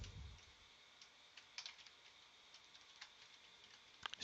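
Typing on a computer keyboard, sparse faint key clicks in quiet room tone, a few scattered taps and a louder burst near the end.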